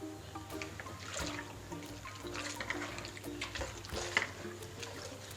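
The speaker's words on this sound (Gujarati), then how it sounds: "તેને આપણે પાણીમાં પલાળી દઈશું." A soft white cotton napkin is soaked in water with quiet, close splashing and trickling, faint liquid sloshes and drips coming in small bursts.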